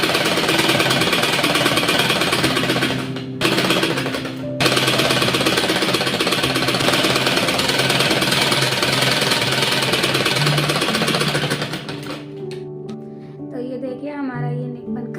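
Sewing machine stitching the neck seam of a kurti sewn from leftover fabric, a loud, continuous rapid mechanical chatter with two brief stops near the start, then slowing and quieting toward the end as voices speak.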